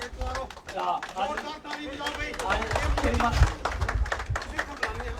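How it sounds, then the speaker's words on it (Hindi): Applause from the crowd at a BJP celebration of Maharaja Hari Singh's birthday, welcoming Ravinder Jamwal, with scattered clapping under a loud announcer's voice and crowd chatter, swelling somewhat toward the middle. "ताली करें स्वागत श्रीमान रविंद्र जम्वाल जी का"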